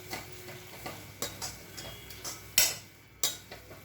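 A spoon stirs grated raw mango pickle cooking in oil in a pan, giving soft irregular scraping taps over a faint sizzle, with two sharper clinks near the end.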